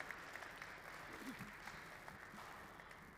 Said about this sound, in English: Join me in giving a big round of applause.